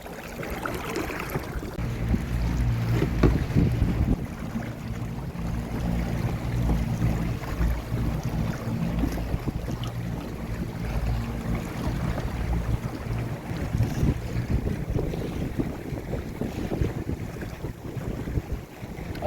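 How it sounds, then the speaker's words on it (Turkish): Strong wind roars across open water off Çeşme during a fishing trip, buffeting the microphone continuously, with waves and the low rumble of a boat beneath. "Aynen bir anda rüzgar çıktı."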